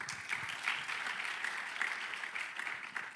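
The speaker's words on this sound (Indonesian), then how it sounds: "Tepuk tangan dong teman-teman dong." Audience applause in a church teaching session fills the space, steady and dense with many hands clapping, sustained throughout at a fairly strong level.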